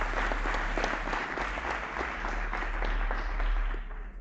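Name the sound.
audience applause for prize winners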